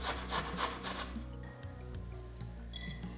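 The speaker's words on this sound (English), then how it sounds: "I'm using my box grater today because I find that to be faster." A carrot rubbed down a box grater makes quick rhythmic scraping strokes at first, then softer, slower rasps. The sound is close and quiet, for a hot and sour soup.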